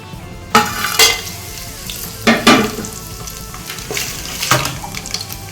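Whole spices such as bay leaf, stone flower and cardamom sizzle in hot oil for chicken biryani, a steady close frying hiss broken by several louder bursts of stirring and clatter.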